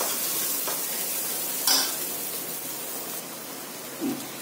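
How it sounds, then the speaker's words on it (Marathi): Spices frying in oil for a Marathi-style egg curry, a steady close hiss and sizzle with a few faint stirring clinks and scrapes. "तर अशा प्रकारे आपण तेलामध्ये मसाले टाकून भाजून घ्यायचे थोडे छान."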